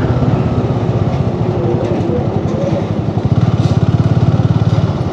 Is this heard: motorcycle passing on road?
yes